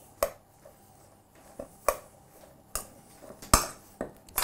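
Sesame oil and soy sauce being mixed in a bowl, with a handful of sharp, separate clinks of a utensil against the dish spread over a few seconds in an otherwise quiet room.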